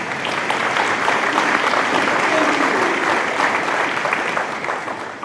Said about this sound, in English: I think we need some applause for these kids.